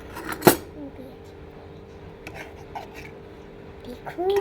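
A spoon stirs boiled lentil dal in a cooking pot, giving one sharp scraping rasp near the start, followed by faint rubbing and quiet background voices.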